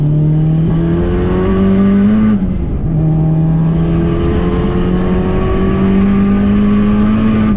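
Tuned car engine running straight E85 fuel pulls hard through third gear, a loud, steady rising drone with a brief dip near the upshift before climbing again, heard up close and alone.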